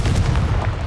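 Confringo explosive spell cast in Hogwarts Legacy, a loud booming blast with rumbling low-end impact, brief and close.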